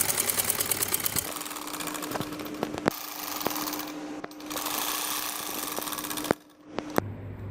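A sewing machine stitches a kurta panel in fast, rattling runs, stopping briefly twice before starting up again, heard close by with no speech.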